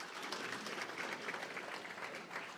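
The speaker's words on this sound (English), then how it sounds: "Round of applause for these gents." An audience gives a round of applause after a panel discussion, steady dense clapping held at a moderate distance throughout.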